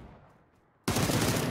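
Sudden loud burst of automatic gunfire in a PUBG match, a dense rapid volley that starts abruptly after a quiet moment and continues to the end.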